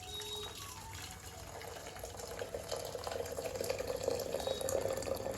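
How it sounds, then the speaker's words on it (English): Pre-boiled water pours into a hand-painted tea kettle, a steady gushing fill that grows louder and fuller toward the end. "then you have to pour in the kettle"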